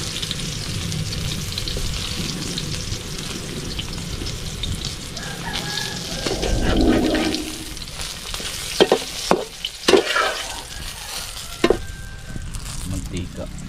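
Eggplant fries in hot cooking oil with a steady sizzle, punctuated by sharp clatters of utensils stirring and a swell of louder bubbling midway, as a rooster crows faintly in the background.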